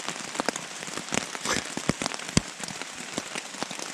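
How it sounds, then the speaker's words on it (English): Rain pattering steadily on a surface outdoors, dense irregular drops with occasional sharper, closer taps, moderately quiet and with no talking. "Hear that? It's rain."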